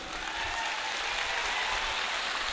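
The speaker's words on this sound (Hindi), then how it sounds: "डॉक्टर मिलन दास के लिए जोर से ताली बजाइए जरा" A crowd applauds at a political rally in Hailakandi, Assam, for candidate Dr Milan Das: a broad, even roar of clapping from a large outdoor gathering, sustained and moderately loud throughout.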